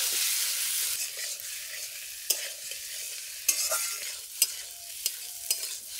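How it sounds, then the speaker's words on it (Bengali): Potatoes sizzle in a pan with ginger-garlic and cumin paste while a spoon stirs them, giving a steady soft frying hiss punctuated by several sharp scraping knocks. "জিরে বাটাটা দেওয়ার পর আবারও কিছুক্ষণ একটু ভাজা করে নেব।"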